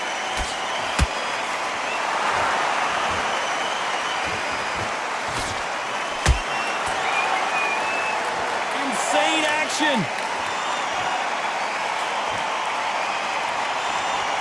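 Boxing arena crowd at a middleweight bout keeps up a steady roar of cheering and scattered applause, with a few sharp claps or thuds standing out, while a commentator talks over it.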